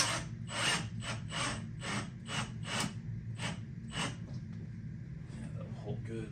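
A bigger screw is driven into wood to hold down a grow light in a cactus growing loft, a series of rhythmic ratcheting bursts, roughly a dozen close strokes that slow and fade toward the end.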